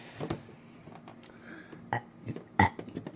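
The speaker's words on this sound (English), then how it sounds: "Tomato sauce gives me a case of the burps." Several short, wet burps after eating tomato sauce, close and fairly quiet, spaced irregularly with the loudest near the end.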